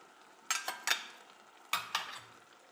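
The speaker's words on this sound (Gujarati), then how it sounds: "બધા શાકભાજીને મસાલા સાથે મિક્સ કરી લઈએ" Chopped cauliflower, peas and other vegetables are stirred with spices in a pan for Surti bhaji pav, making four quiet scraping strokes in two pairs over a faint sizzle.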